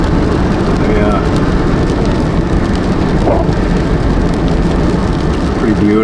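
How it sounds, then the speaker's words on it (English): Rain drums steadily on a moving car during a wet drive through the Yukon, a dense, loud wash of noise that runs unbroken from start to finish. "Of course, it's raining now"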